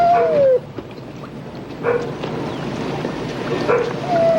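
Dogs let out several high, drawn-out whimpers and short yips at fairly close range, coming in separate bursts at the start, middle and end.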